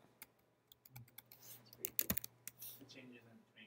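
Keystrokes on a computer keyboard in a classroom lecture setting, a scattered run of light clicks with a denser burst midway, fairly faint over a low steady hum.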